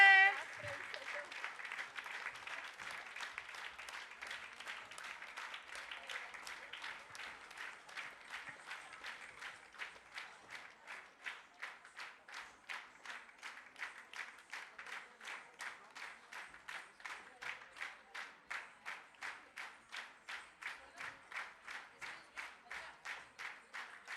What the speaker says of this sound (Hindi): तालियां क्यों बंद हो रही हैं?